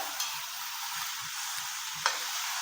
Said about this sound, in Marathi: हे कांदा आपण असा परतून घेऊया